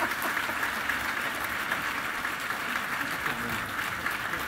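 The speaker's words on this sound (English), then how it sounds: "deserves a huge applause" Applause fills a hall at a design awards gala, steady dense clapping from a large audience that holds at an even loudness throughout the few seconds.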